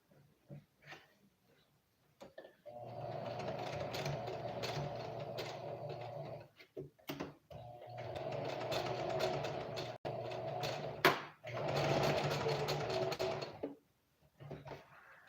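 A sewing machine runs a zigzag stitch along pants while an elastic band and rope are attached, in three long steady bursts broken by short pauses and faint handling clicks.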